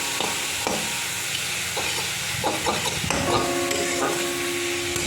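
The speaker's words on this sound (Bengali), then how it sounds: "আর একটু ভালো করে ভেজে নেব" Steady sizzle of bottle gourd leaves frying in a pan, with occasional scraping stirs and clinks of a utensil.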